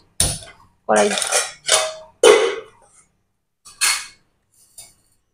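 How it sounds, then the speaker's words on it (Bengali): A wok is set down and handled on a home stove, giving a series of loud, separate metallic clanks and rattles with short silences between them. "কড়াইতে বসিয়ে দিলাম"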